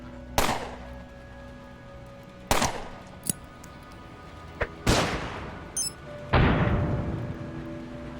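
Single gunshots from the turn-based video game Underrail crack out one at a time, four loud reports with long ringing tails and a few short clicks between them, with no one talking.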